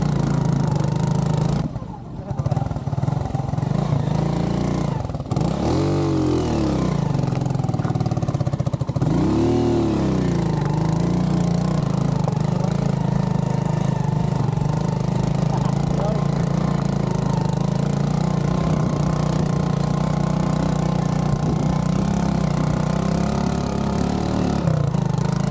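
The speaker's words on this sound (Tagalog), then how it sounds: "Enjoyin nyo muna tong tricycle ride namin paakyat sa Adventure Park." A motorized tricycle climbs a rough, rocky uphill road toward an adventure park in Dingalan, Aurora, its engine droning steadily and loudly close by throughout, with a few bumps and jolts early on and some talk mixed in.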